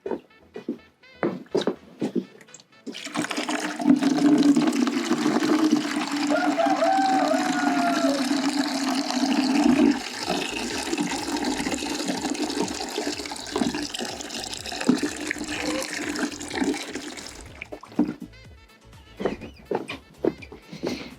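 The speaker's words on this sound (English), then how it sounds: "So I'm going to add water and make sure it's moist." Water poured steadily onto the soil of a home worm farm makes a continuous splashing, gurgling flow for about fourteen seconds, close and fairly loud, bracketed by handling knocks before and after.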